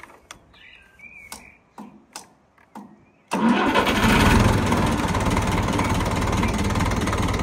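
A Ferguson TEF20 tractor engine is cranked and fires up on minimal throttle after a few scattered knocks and clicks, then settles into a loud, steady idle running close by.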